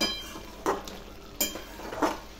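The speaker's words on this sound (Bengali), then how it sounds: "এরকম প্রায় 15-20 মিনিট ধরে এটা কষছি" Chicken pieces, still releasing water, are sautéed in a pan for biryani, giving a faint low sizzle broken by three distinct scraping strokes of a spoon stirring, with no speech.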